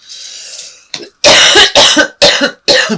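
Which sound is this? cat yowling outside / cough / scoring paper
cough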